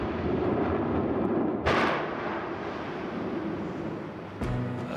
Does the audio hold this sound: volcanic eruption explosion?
yes